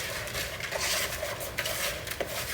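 Granola cereal and energy bar ingredients are stirred together in a bowl, with a steady close clatter of a utensil scraping and clinking against the dish and a few sharper knocks.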